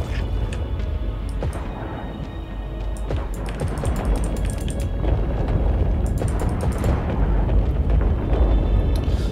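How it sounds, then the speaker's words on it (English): Underwater explosion effect in the video game Phantom Fury: a dense, sustained rumbling boom with churning low-end roar and scattered bursts, loud and continuous for several seconds, with no talk. "That underwater explosion effect is cool."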